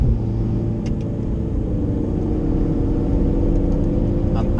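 A car engine pulls hard under throttle on the Nurburgring, a loud, steady, close rumble that holds for several seconds without talk.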